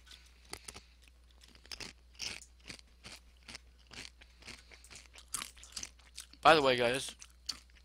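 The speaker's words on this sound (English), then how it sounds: "if you hear that annoying crunching, that is me eating Doritos." A sharp, close burst of crunching as someone bites into Doritos chips, coming after someone talks over the faint sound of a Terraria game.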